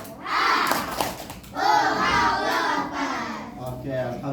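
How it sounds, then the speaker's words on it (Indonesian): A primary school class performs the rhythmic clapping chant tepuk semangat, children's voices shouting along with quick patterned hand claps, loud and close, filling the whole room for a few seconds. "Tepuk semangat."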